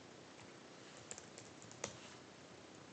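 Computer keyboard typing in a quiet room, soft scattered key clicks with a couple of sharper taps, close and faint, with no talking.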